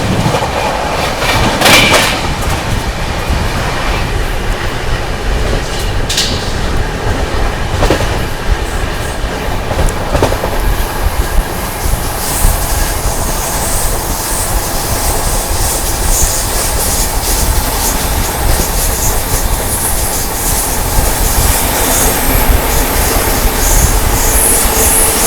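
A Mumbai–Delhi Maharashtra Sampark Kranti Express runs through Bharatpur Junction, steady loud rolling rumble with wheel clatter and occasional squeals and clanks, continuous and close from inside the train.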